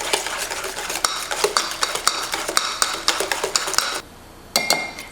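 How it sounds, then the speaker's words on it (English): A whisk beating cream cheese glaze with half and half in a bowl: fast, close metallic clinks and scraping strokes in a steady rhythm, pausing briefly before resuming, loud with no talk. "we're gonna go ahead and whisk it together until it's smooth"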